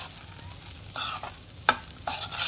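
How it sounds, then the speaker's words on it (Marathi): Sago pearls and peanuts sauté in a pan, a low, steady sizzle broken by several scraping spatula strokes and one sharp knock, all close and unaccompanied by speech. "आपल्याला साबुदाणा छान परतून घ्यायचा आहे।"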